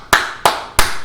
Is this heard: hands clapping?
yes